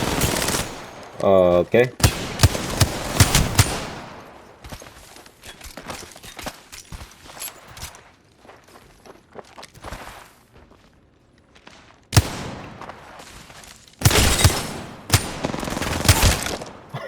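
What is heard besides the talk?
gunfire from a video game shooter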